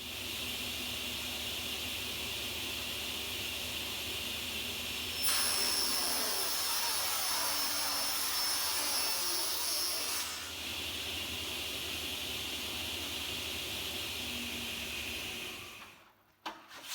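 A saw trims a sheet of plastic drawer liner during a home organising job, a steady hissing, whirring cut lasting about five seconds amid continuous background noise, then stopping.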